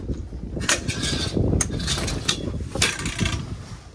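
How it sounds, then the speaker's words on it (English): Boca Shade V3 gearbox mechanism being pulled out to extend, giving a close rumbling slide with several sharp metallic clicks and clacks, loud and alone without talk. "Flip up the gearbox lever. And just simply pull out."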